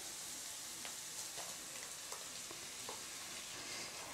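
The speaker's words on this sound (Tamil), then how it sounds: "இஞ்சி பூண்டு பேஸ்ட்டு சேர்த்து நல்லா வதக்கி விடுங்க" Ginger garlic paste sautés in butter and oil in a kadai for paneer gravy, giving a soft, steady sizzling hiss with a few faint clicks throughout, no voices.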